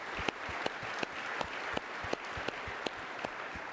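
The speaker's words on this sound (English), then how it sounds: "I'd like to give them a round of applause" A conference audience applauds a support team, a soft even wash of clapping with a few sharper individual claps standing out, heard from a distance.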